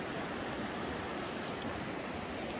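A river in Yellowstone rushing beneath a footbridge, a steady broadband wash of flowing water, faint and continuous with no voices.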